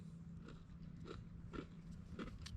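Crunchy food chewed at a camp meal cooked on a Bushbox XL Titanium stove, with repeated close bites and crunches over a steady low hum, no talking.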